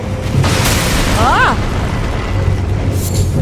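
An exploding enemy in Elden Ring goes off with a loud, deep in-game boom under a player's brief voice, while a rising whistling tone and other game sounds continue around it.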